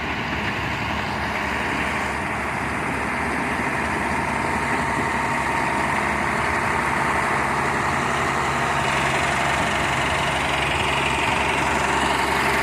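A CAT 140G motor grader's diesel engine runs steadily while grading laterite soil, a continuous low rumbling drone with a mechanical whine, close and fairly loud with no breaks.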